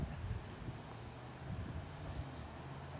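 Wind blowing outdoors on a breezy day, a steady low rumbling gust noise buffeting the microphone throughout, fairly close and continuous with no talking.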